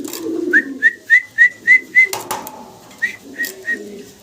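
A pair of Modena pigeons coo in a run of six short, even calls, then three more after a brief pause. The calls are close and clear over faint background noise.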